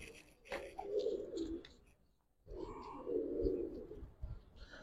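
Giribaz pigeons coo in two bursts of low, rolling calls, near and moderately loud, with a short quiet gap between them and faint chirps from other birds.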